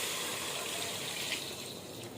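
Coconut milk pours steadily from a glass into a cooking pot for coconut pulao in a village kitchen, giving a continuous, close, even gushing flow that lasts a couple of seconds with no talking.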